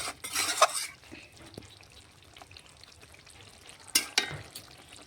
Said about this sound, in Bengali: আবারও নাড়াচাড়া করে জলটা কড়াতেই যেটুকু জল আছে ওটা শুকিয়ে নেব